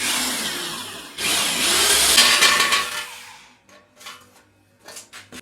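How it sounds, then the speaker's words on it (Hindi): A power drill bores a hole in metal to fit a valve for a homemade kerosene stove, a loud whirring grind for about two seconds that cuts off abruptly, followed by a few faint knocks and scrapes. "मैं यहाँ पे इसके लिए यहाँ पे एक सुराख कर लेता हूँ, और इसको फिर इसमें वेल्ड कर लेता हूँ"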